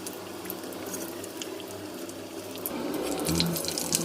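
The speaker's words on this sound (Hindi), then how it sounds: "अब हम कबाबों को मीडियम फ्लेम पर रख के अच्छे से फ्राई कर लेंगे।" Shami kebabs fry in oil over a medium flame, giving a steady, close crackling sizzle that grows slightly louder toward the end, with no voices.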